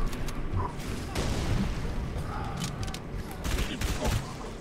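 Shotgun blasts in the video game Halo 3 ODST amid a dense battle mix, several booming shots and crackling gunfire with mechanical clatter, loud and close.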